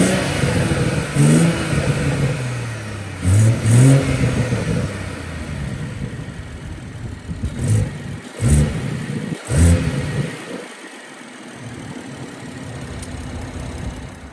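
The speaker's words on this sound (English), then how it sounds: "let's go ahead and get some under the hood revs of my new CTS Turbo cold air intake" A BMW 340i engine with a CTS Turbo cold air intake, recorded under the hood, idles loudly and is blipped in several short revs that rise and fall, with a pause before a final quieter idle.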